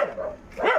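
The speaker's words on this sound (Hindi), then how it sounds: "अरे भाइ कुत्ता बहुत भुक रहा" A dog near a village road on the way to a mountain area by the Bhutan border gives two loud barks close by, separated by a short gap.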